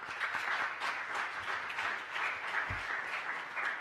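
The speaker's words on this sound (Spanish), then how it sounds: "Un aplauso." Audience applause at a conference on restructuring and insolvency, a steady wash of many hands clapping, moderately distant and sustained without talk.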